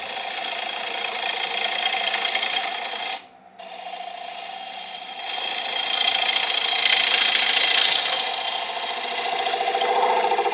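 A wood lathe spins a bowl blank while a gouge makes a push cut, a continuous close scraping hiss over the lathe's hum, briefly breaking off near the start before resuming steadily.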